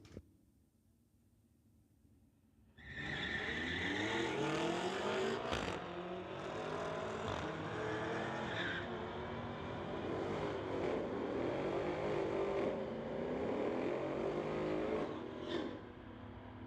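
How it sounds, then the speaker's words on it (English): A 2015 BMW and a 5.7-litre 1999 Camaro RS launch side by side at a street-legal drag race. After a quiet start, loud engine roars burst in and climb through rising gear sweeps, then hold a sustained, distant-to-near drone. "Justin Gill from Kamloops is in the TCS lane, 2015 BMW. Going against Tony from Coquitlam, 1999 Camaro RS"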